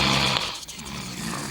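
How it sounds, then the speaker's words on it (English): Snoring from the sleeping shapes in a children's arts and crafts show, a continuous nasal rumbling drone with a brief dip midway. "Who's that snoring?"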